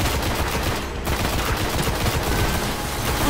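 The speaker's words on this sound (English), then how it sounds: "the kick on the shotgun is absurd" A shotgun and other guns firing in Destiny, a first-person shooter, as a dense, continuous barrage of shots with a short lull about a second in.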